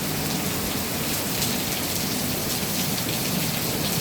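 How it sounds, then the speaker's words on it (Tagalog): Heavy rain pours down steadily, a dense, close wash of drops drumming on surfaces with no break across the whole stretch. "Lakas ng ulan, guys."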